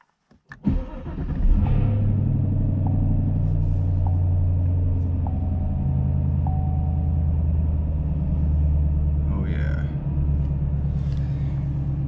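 A six-speed manual Chevrolet Camaro engine cranks and catches, then settles into a steady, close, low rumbling idle with no talk over it.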